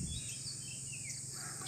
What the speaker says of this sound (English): The chirping and the twittering sounds of the